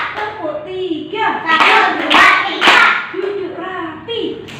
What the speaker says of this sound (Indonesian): Mau tepuk 2, tepuk 3,